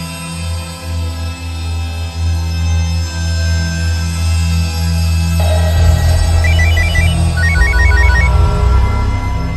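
A phone ringtone plays over a tense TV crime drama score, a repeating electronic melody entering about halfway through and ringing loudly over the music.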